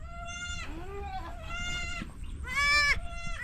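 Goats on a farm bleat repeatedly and loudly nearby, several wavering calls in quick succession, the loudest and longest coming near the end.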